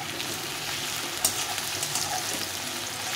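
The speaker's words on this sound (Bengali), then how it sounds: "একটু ভালো করে ভেজে নিতে হবে যেন পেঁয়াজটা তাড়াতাড়ি করে নরম হয়ে যায়" Onions and whole garlic frying in oil for a mutton curry, giving a steady, close, even sizzle that runs throughout with no talk over it.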